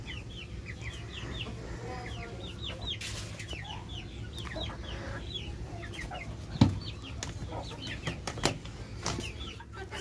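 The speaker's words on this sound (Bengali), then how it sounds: "এখানে ফার্মি মুরগি আছে, দেশি মুরগি আছে" Farm broiler chickens and native village hens clucking on a small backyard farm, with repeated short calls scattered across the whole stretch over steady low background noise, and a sharp knock near the middle.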